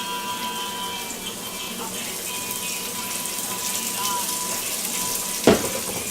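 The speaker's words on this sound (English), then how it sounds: "I'm gonna go ahead and add a little more olive oil to this." Pork fingers sizzle in olive oil in a pan, giving a steady, close frying hiss with one brief sharp clatter near the end and no talking.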